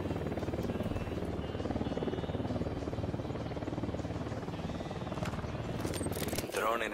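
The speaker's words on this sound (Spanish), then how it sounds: "Dron en el aire. Es un helicóptero." A helicopter in the video game Ghost Recon Wildlands drones with a steady, rhythmic rotor thump, constant and fairly loud, with voices talking over it before a brief burst of noise near the end.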